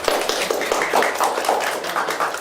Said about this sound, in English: let us all welcome Diane with a round of applause